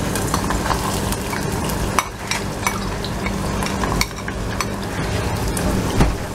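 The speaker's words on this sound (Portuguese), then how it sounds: "O azeite, vamos deixar aquecer assim um pouco. Agora vou colocar a cebola," Chopped onion sizzles and crackles steadily in hot olive oil in a pan, with occasional stirring scrapes and utensil clinks, close and fairly loud with no talking.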